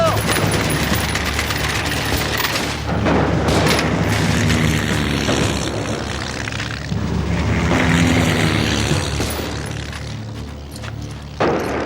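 A volley of gunfire fired on command, loud booming shots layered over a dense, rumbling background with an aircraft drone and swelling music, lasting through most of the scene.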